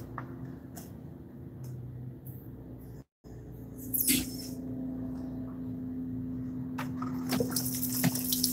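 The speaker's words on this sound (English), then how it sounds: "I'm gonna rinse it off." Water runs over a motorcycle chain during a rinse, a soft splashing and trickling that starts faint, cuts out briefly, then swells into a steadier gush with occasional louder spurts.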